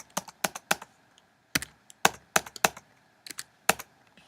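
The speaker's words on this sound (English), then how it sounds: "and manually enter on my keyboard." Keystrokes on a computer keyboard as values are typed into gradebook cells, coming in quick clustered bursts of clicks with short pauses between, close and clear with no talking.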